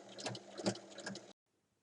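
Sewing machine stitching a folded fabric strip close to the edge, a short burst of rapid whirring mechanical chatter that stops abruptly, then near silence.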